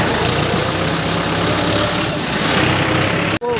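A loaded tractor's diesel engine runs close by at a steady low rumble, constant throughout before briefly cutting out near the end.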